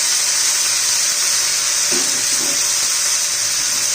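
Cluster beans, potato and peas going into hot oil with onion and curry leaves, frying with a steady loud hiss and a few soft knocks partway through; no one talks.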